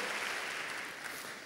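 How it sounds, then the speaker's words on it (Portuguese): A church congregation bursts into strong, continuous applause during a sermon, a short, dense wash of clapping from many hands. "Dê uma salva de palmas bem forte a ele."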